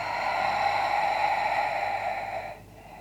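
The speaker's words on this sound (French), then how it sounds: "Encore 3 respirations comme ça à ton rythme." Slow exhaled breaths during a prenatal yoga session, a long airy hiss lasting over two seconds that then fades out, heard close and soft.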